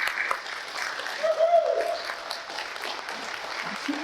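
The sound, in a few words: crowd applause for veterans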